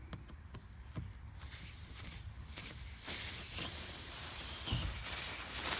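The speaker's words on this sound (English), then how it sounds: "I am going to go ahead and remove the screw." A screw being pulled from a punctured car tire during a plug repair, with soft scraping and scuffing, then a steady airy hiss that swells and carries through, plus a few sharp taps near the start.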